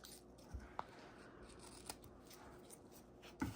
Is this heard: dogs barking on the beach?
no